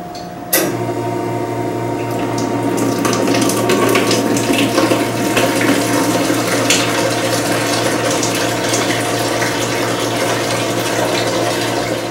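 Hot water drains steadily from the tea faucet of a FRESER TB-35T tea brewer during its fast cooling cycle, a continuous splashing stream with a faint mechanical hum beneath, starting abruptly and running on evenly.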